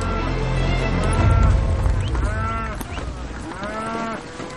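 Cattle in Brazil mooing loudly and close, several long drawn-out lowing calls one after another over a rumbling low background.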